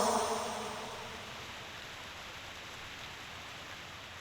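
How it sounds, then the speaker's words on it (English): Steady rain falling in the video game Reverse: 1999, a soft, even wash of drops heard alone with no voices, a little louder at the start before settling into a constant hiss. "The rain has stopped."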